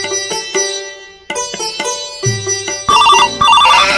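A phone ringing with a bright, repeating electronic melody while a call is being placed, in a Rajbanshi comedy sketch. Tonal bursts start and stop, then grow louder and denser toward the end, with no talking.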